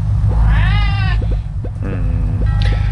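A tabby cat meows in Crossy Road with several short, clear meows and bleat-like calls spaced over a few seconds, close and distinct above a steady low background hum.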